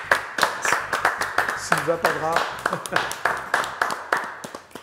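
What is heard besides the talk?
audience applause for a singer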